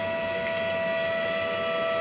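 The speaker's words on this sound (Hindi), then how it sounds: "और साइरन हो चुका है" A Ramadan iftar siren sounds in the distance as a steady sustained tone, held evenly throughout under faint room noise, with no voices.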